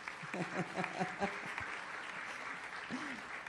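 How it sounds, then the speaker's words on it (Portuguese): An audience at a São Paulo talk on ageing and the living conditions of older people applauds to welcome the speakers, moderate clapping with voices mixed in, fairly distant and steady. "vamos aplaudi-las para recebê-las calorosamente"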